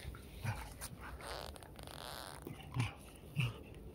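A stray dog in a village gives a few short low growls and whimpers, nearby, against steady outdoor background noise.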